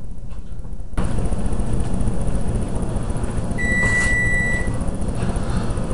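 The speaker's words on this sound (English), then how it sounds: "did you hear that beep? That was my timer telling me that this meat rested for 10 minutes" A kitchen timer beeps once in a single sustained electronic tone lasting about a second, heard against a steady background hum in a home kitchen where meat is resting.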